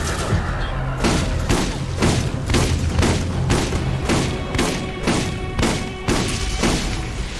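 Shotgun blasts in the Borderlands video game, a steady rapid series of about a dozen loud booming shots over a constant game soundtrack.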